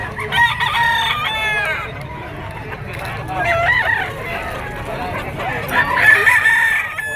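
Several gamefowl roosters and stags crow repeatedly at a busy market with standing sellers, loud and close, with clucking and background chatter of people talking throughout.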